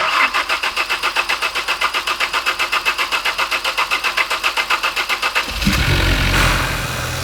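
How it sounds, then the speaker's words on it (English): Ford Focus RS with a freshly repaired head gasket, ARP head studs and no coolant yet, cranking with a rapid even rhythm of starter pulses for about five seconds, then firing and catching into a loud, steady idle. "We wanted to start the engine first before putting in the coolant, just in order to check if it starts."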